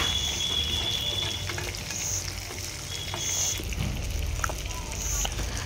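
Potatoes and tomatoes frying in a pan while cooking for a rice and fish curry meal, a steady close sizzle with faint stirring clicks throughout, and a voice speaking over it.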